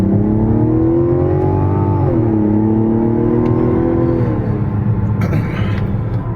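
The turbocharged engine of a 2025 Mazda CX-70 Turbo S Premium Plus drones loud and steady from inside the cabin. A throaty, beefy hum rises in pitch, dips, then climbs again, and there is no talking.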